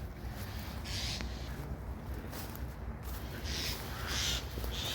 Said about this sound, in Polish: odgłosy ptaków